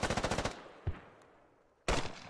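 Machine gun fire in the tactical shooter Squad: a rapid burst of about ten shots, then a single distant crack, a quiet gap, and another loud shot near the end, with no talking.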